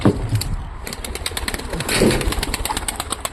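Rapid wing flaps from pigeons taking off, a fluttering burst that rises and fades, with some soft cooing and a low engine hum.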